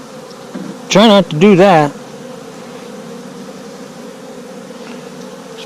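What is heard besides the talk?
honey bees buzzing at opened winter beehive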